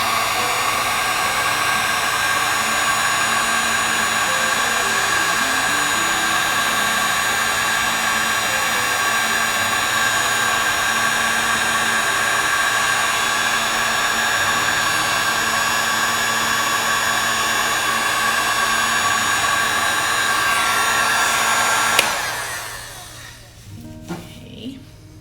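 A hot air blower on its low setting blows steadily onto resin sand for about twenty seconds, a constant loud rushing whir that cuts off near the end, leaving near silence.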